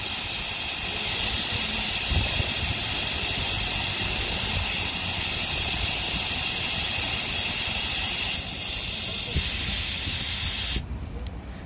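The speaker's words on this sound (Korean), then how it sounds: "공에 바람 넣을 때 쓰는 부품이 있는데, 이걸로 여기를 살짝 눌러주면 바람이 빠질 거예요" Steady broadband air hiss escapes a Genesis EQ900 Limousine tire valve held open with a ball inflation needle, loud and continuous for about ten seconds before cutting off abruptly.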